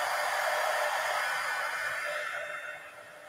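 A hair dryer blowing over a paper collage gives a steady, close airy whoosh that holds strong, then gradually tapers and fades toward the end, with no talking.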